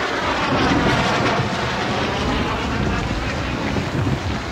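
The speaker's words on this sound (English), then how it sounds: "Aeroplanes!" Aeroplanes fly overhead during a storm, heard as a steady, dense roar of engine and wind noise that fills the whole clip without a break.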